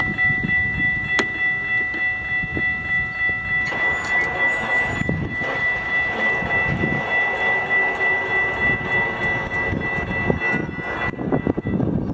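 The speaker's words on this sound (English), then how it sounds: "Our final train at Norristown would be the same SEPTA set heading back to Philadelphia." A SEPTA passenger train at Norristown station heading back to Philadelphia rumbles loudly and steadily with rhythmic wheel-on-rail pulses, a sustained tonal whine and occasional higher squeals, close by and without talk.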